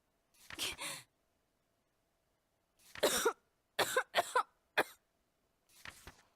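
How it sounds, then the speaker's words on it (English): A coughing fit from the video game Labyrinth of Refrain comes as short, harsh bursts: one at the start, then a tight cluster of several coughs after a pause, close and fairly quiet with silence between. "Her coughing grew more intense until she spat up a thick glob of blood and fainted."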